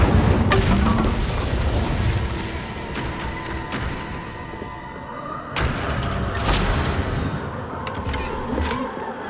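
Incendio fire spell cast in the video game Hogwarts Legacy: a dense, roaring blast with booming, crashing bursts over continuous rumbling fire noise, loud throughout with sharper flares partway through.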